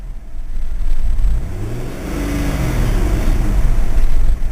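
A car with a faulty purge valve, barely idling, revs under light throttle with a loud, close engine drone that rises and wavers while the gas is held.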